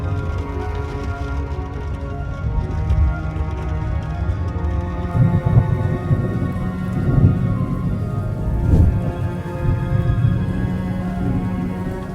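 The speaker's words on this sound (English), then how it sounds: "the rain was already waiting for me." Steady rain pours down in Strasbourg with low rolls of thunder rumbling through it, a continuous wash of drops on surfaces that swells in a few heavier bursts, no voices present.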